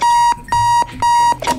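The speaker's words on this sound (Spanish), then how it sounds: "toqué la alarma sin querer" A repeating electronic alarm sounds in a bomb-defusing video game, three loud steady beeping bursts in a fast on-off rhythm, cut short at the end by a brief clattering noise.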